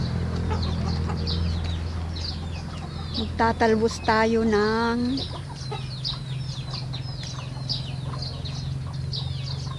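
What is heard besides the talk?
chickens clucking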